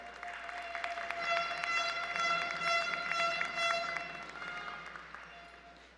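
Sustained audience applause at a regional oratory contest final in Coclé, Panama, a dense mass of clapping that swells over several seconds and then gradually thins out.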